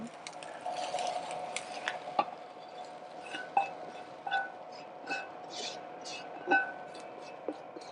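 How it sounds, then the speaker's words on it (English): Fried rice scooped with a metal utensil into a hot pan: a string of faint scrapes and sharp clinks against the pan, spaced irregularly over a quiet hiss. "let's scoop that out into the pan"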